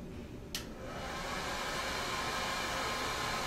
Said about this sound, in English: If we start the hairdryer on low speed,